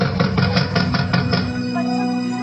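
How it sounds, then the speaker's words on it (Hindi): Knocking on a wooden door as a man seeks shelter for his pregnant wife: a run of about six quick, even raps over a steady musical bed, which carries on alone once the knocks stop. "यूसुफ ने मदद के लिए किसी का दरवाजा खटखटाया।"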